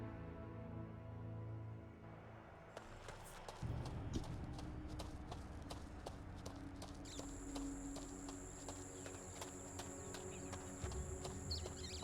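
Horse hooves clip-clop at a steady walking rhythm in the video game Two Worlds, fairly quiet and even, over soft game ambience.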